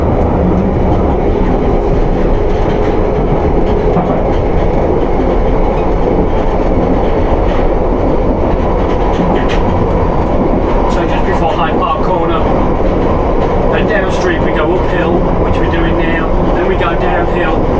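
A London Underground Piccadilly Line train runs between stations at night, a loud steady rumble of wheels and motors with rattles and clicks throughout, as someone talks over the noise.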